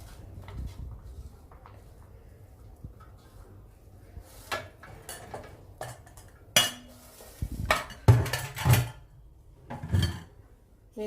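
A spoon stirs soaked sabudana with peanut powder in a bowl, producing scattered clinks and scrapes against the dish that grow busier and louder toward the end, with no talking over them.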